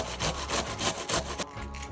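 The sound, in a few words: knife shredding cabbage for coleslaw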